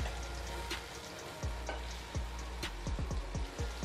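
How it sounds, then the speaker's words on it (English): Plantain and pepper sauce seasoned with a little salt fries in a pan, a steady close sizzle broken by soft clicks and scrapes of stirring toward the end, no voices. "I'll just let this fry"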